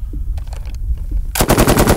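.338 caliber machine gun fired at an outdoor range: faint voices and a few soft knocks first, then a loud, close sustained burst of rapid automatic fire filling the last part.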